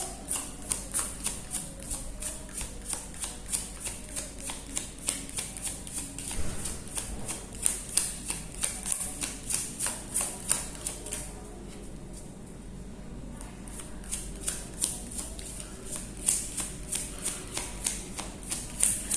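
Tarot cards riffled and shuffled continuously, a steady rapid train of crisp flicking snaps with brief pauses between bursts, close and fairly loud, no talking.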